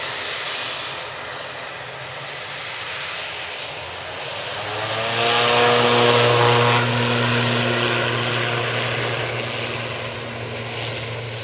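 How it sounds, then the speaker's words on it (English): An ATR turboprop airliner in ex-Avianca livery departs for Guernsey, its propeller drone swelling to a loud, steady hum with strong tonal harmonics, then easing slightly as it climbs away. "Arini in the ex-Avianca liveried ATR, now going back to Guernsey"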